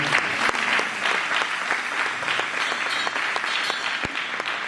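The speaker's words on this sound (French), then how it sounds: "Est-ce qu'on peut acclamer royalement pour le Seigneur?" A worship congregation applauds for the Lord at a church service, a dense, steady wash of many hands clapping close by, with a few sharper individual claps standing out, and no talk over it.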